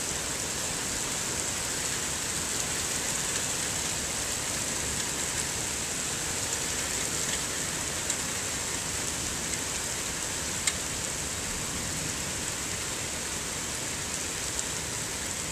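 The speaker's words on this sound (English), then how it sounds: "it's hail balls from hell" Hail pours down during a violent June 2009 storm at a backyard pond, making a dense, constant roaring clatter with occasional sharper ticks as individual stones strike and bounce.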